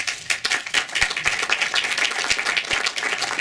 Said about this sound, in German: ist an alle Spender ein herzliches Dankeschön, einen kleinen Applaus wert.